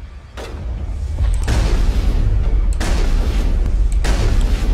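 Gunshots from the video game Mass Effect: heavy booming weapon fire with a few sharp blasts over a loud, rumbling background of combat noise, with no talking.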